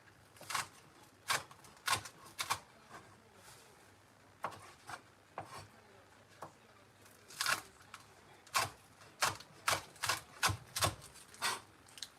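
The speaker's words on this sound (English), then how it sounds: "Just finely dice them like that." A knife finely dicing green onion tops on a cutting board, a run of sharp rhythmic chops in bursts, close and clear with no talking.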